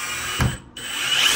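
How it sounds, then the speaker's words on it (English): A cordless DeWalt or Milwaukee power drill drives a screw into wood, giving a loud, steady close whine with a short dip midway as it sinks in. "Wow, that just drilled it in."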